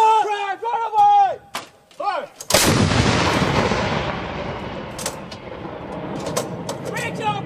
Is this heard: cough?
no